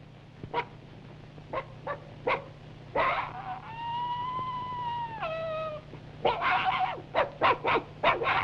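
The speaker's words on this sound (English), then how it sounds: "And then that old ranch dog." An old ranch dog gives several short, sharp barks in quick succession, then a long whining, howl-like tone that bends downward, followed by another rapid burst of barks, fairly close and alone without speech.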